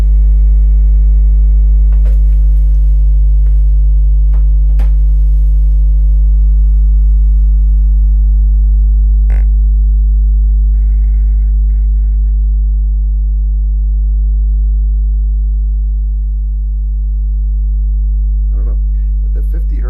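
A steady test tone drones continuously, with a strong low fundamental and a stack of even harmonics. A few faint clicks and ticks sit on top, and no one speaks.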